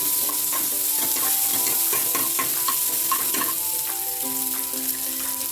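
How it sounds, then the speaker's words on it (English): Gobi manchurian with coriander is stirred in a hot pan. A constant sizzle runs under repeated spoon scrapes and clinks at a busy, uneven rhythm. "We'll mix well."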